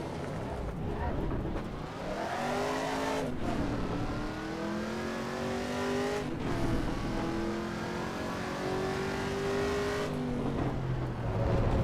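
Race car engine in Assetto Corsa EVO revving hard through a lap, climbing through the gears with brief dips at each shift, loud and steady throughout.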